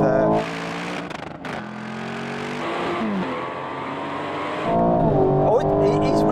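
Aston Martin Valkyrie, Vanquish and V12 Vantage launch in a drag race, loud engines revving and climbing in pitch through gear changes, with a roaring surge near the end while people talk over it.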